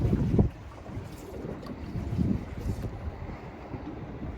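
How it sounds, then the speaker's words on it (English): Gusty wind buffets the microphone while fishing at Botany Bay, with a heavy rumbling burst at the start and another midway over a low, restless roar. "It's very windy."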